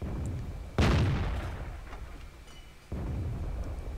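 A tank gun fires in a tank battle video game, a single loud, deep boom with a sharp attack whose rumble trails off over a couple of seconds, followed by steady engine-like background noise.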